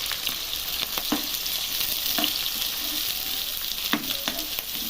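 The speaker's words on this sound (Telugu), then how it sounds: "నూనె వేడెక్కిందండి. ఇప్పుడు పచ్చిమిర్చి 3 వేసానండి." Three large green chillies fry in hot oil with a continuous crackling sizzle, broken by occasional sharper pops and stirring scrapes, close and fairly loud with no voices.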